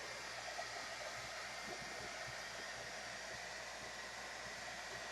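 A hair dryer blows with a steady, even whoosh, constant and unbroken throughout at moderate distance.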